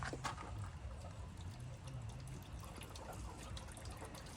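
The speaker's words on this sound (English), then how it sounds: "And the water will start to drain." Water drains from an opened water heater valve in a faint, steady trickle with light patter and dribbling, low and continuous throughout, without talk.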